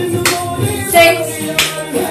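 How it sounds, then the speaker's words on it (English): Hand claps during a Bollywood dance workout, a few sharp claps spaced about a beat apart over loud music. "Roll. And clap."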